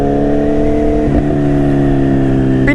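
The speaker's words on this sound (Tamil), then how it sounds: "பின்னாடி பாப் வந்து பார்த்தீங்கன்னா வேறு லெவல் பாப்பில் இருக்குது" Kawasaki Z800 motorcycle engine running loud and steady at high revs, its deep exhaust drone holding throughout with a brief crackle around the middle.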